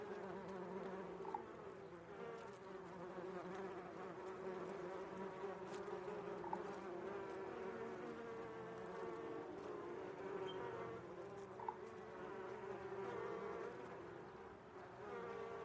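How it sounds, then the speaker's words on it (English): Buzzing bees in the video game Donut County: a dense, steady swarm drone that holds at an even loudness for the whole stretch, with no voices over it. "Right, the noise of the bees is making me feel,"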